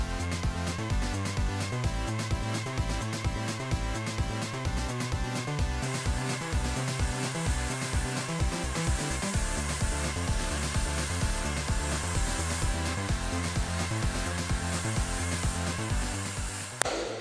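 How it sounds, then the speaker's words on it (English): A blow dryer runs steadily and continuously for over fifteen seconds while a man's hair is dried back with a curved brush for a pompadour. It makes a close, even rushing whir with no talking. "So first, I'm gonna blow dry his hair back."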